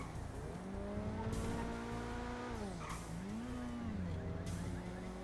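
Car resembling an Acura NSX driving in the video game GTA Online, its engine revving up and down through gear changes with rising and falling pitch, steady and fairly close with no talk.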